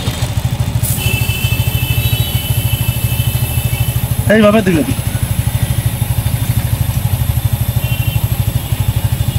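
A Suzuki Gixxer motorcycle running steadily with a rapid, even rhythmic clatter from the chain sprocket, close and continuous, while someone speaks briefly over it.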